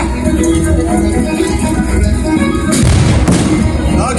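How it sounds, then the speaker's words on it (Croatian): Cannons fire during a Peasant Revolt battle reenactment at Donja Stubica, with one sharp, loud blast bursting out over a steady roar of crowd and battlefield noise. "Spremi tope i kanone."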